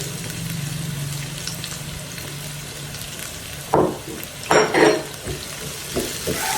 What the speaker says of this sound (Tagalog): Hayaan muna natin mag-slightly brown yung ating garlic. Ayan, suti lang natin.